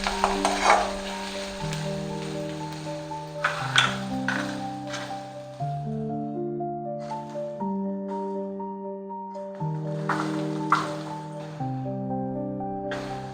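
Sliced onions frying in a pan for kanda poha: a steady sizzle with occasional stirring scrapes and soft clatter, under steady background music.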